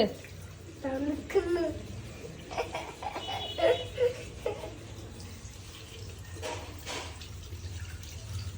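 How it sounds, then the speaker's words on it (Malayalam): Water runs from a tap and splashes intermittently while hands are washed with soap, soft and close, under a voice speaking to a child. "രണ്ട് കൈയും സോപ്പിട്ട് നന്നായിട്ട് കഴുകുക"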